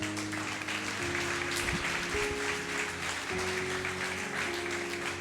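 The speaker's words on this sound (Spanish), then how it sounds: "Dele un aplauso al Señor, por favor." A church congregation applauds in a continuous patter of many hands, while sustained organ or keyboard tones sound underneath.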